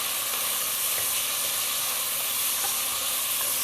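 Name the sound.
greens and beans sizzling in a hot pan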